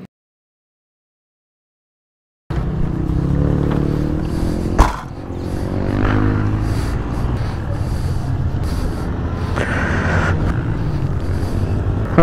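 A KTM RC 390 Cup motorcycle riding on the race track at Adams Motorsport Park, a steady loud engine and wind roar after a silent opening, with one sharp knock midway and shifting engine tones; no talk.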